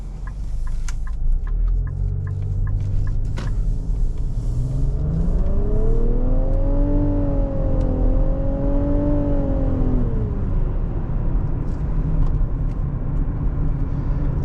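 A 2024 Nissan Rogue SV engine revs up past 5,000 RPM, its drone rising smoothly in pitch, holding near the top, then dropping back, loud and steady inside the cabin with no talking.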